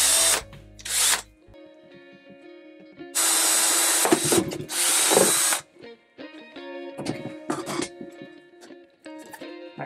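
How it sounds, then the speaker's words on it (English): A power drill bores a hole for a tripod thread in a box housing a DJI Osmo Action camera, with two loud close whirring bursts, one short and one longer, and quieter handling clatter between them. "So that's where I'm going to drill the hole."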